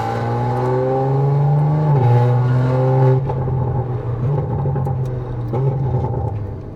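A tuned Audi RS4 Avant engine drones loudly and steadily, its pitch rising briefly then dropping as revs fall, with a deep burbling exhaust throughout.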